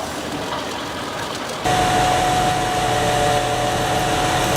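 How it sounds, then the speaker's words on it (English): An Eschelbach B-Bear 110 wood chipper takes in large tree trunks, a loud steady roar that jumps abruptly to a heavier, denser drone with a sustained machine whine, continuous and without pause. "Eschelbach B-Bear 110, a powerful wood chipper in action, grabbing and feeding large tree trunks into its body"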